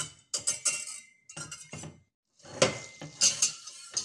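Butter melting in a pot as it is stirred, heard as irregular close clinks and scrapes of a utensil against the metal pan, coming in short bursts separated by brief pauses.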